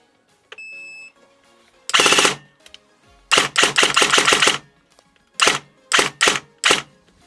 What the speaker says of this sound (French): voyons voir si déjà ça tire.